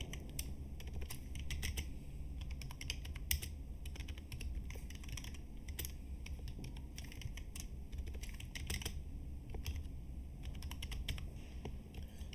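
Computer keyboard keys clatter steadily while HTML template block tags are typed in a Django base.html file, a continuous run of crisp, close keystrokes lasting throughout with no voices.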